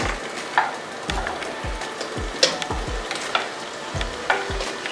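Chopped onions fry in hot oil, giving a steady close sizzle with repeated scraping and knocking of a spoon or spatula stirring the pan, with no talking.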